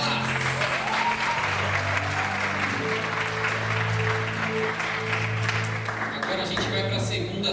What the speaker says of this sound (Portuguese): Salva de palmas para ela.